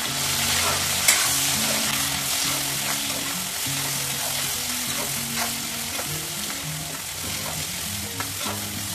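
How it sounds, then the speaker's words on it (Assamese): Chopped onions fry with garlic and ginger in a hot pan for a jackfruit curry, a steady close sizzle broken by repeated scraping stirs, with no talking. "এইখিনি এতিয়া ভালদৰে ভাজিম।"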